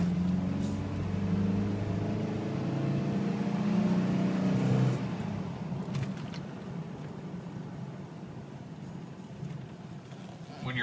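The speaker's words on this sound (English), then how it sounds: "Go ahead and do a full acceleration on the vehicle." A Toyota Tacoma pickup truck accelerates at full throttle, its engine note climbing steadily in pitch for several seconds, then dropping as it shifts and settles into a steady cruising drone with road noise.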